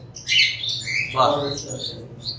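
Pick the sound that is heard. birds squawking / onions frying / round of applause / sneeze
birds squawking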